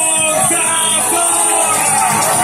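A large crowd in Milan cheers and yells loudly and steadily for Alberto Contador at the Giro d'Italia 2015 winner's ceremony, a dense wall of voices with no pause.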